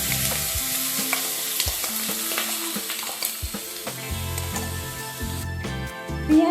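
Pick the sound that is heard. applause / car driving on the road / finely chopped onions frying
finely chopped onions frying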